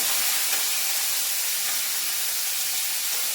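Mustard seeds frying in hot oil for a Kerala-style dish, giving a steady, dense hiss and crackle that runs unbroken through the whole stretch at moderate loudness with no voices.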